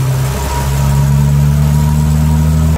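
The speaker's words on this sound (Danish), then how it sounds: "for at høre motoren." A vehicle engine runs steadily and loudly close by, a constant low hum that holds without pause.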